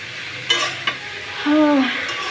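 Food being stirred in a cooking pot on a home stove, a few quick scraping knocks of the utensil followed by a soft sizzle and bubbling, close and fairly quiet, with no one talking.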